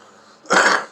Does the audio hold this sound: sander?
no